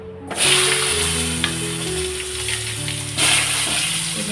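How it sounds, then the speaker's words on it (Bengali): Pointed gourd (potol) pieces fry in hot oil left from frying fish, giving a close, steady sizzle that swells as they go in, with a brief utensil clatter and no speech. "এবার আমি এই তেলটার মধ্যে পটলগুলোকেও একটু ভেজে তুলে নেবো"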